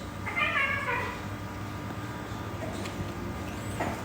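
A house cat gives one clear meow near the start, then a fainter call near the end, over a steady room hum with quiet voices in the background.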